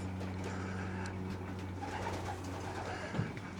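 Young racing pigeons in a loft aviary give low, soft, continuous cooing over a steady background hum, quiet and close.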